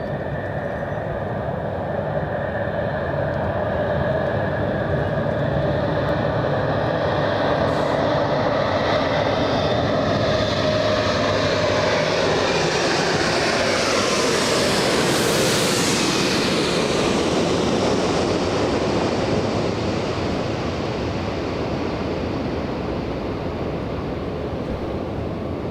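Heavy airliner arriving at LAX, a loud sustained roar that swells and peaks as it passes overhead, then slowly recedes with broadband rumble and whine.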